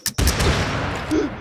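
Gunfire from the video game Totally Accurate Battlegrounds: a couple of sharp reports open a loud, rapid burst of shots that continues steadily close up, with no voices over it.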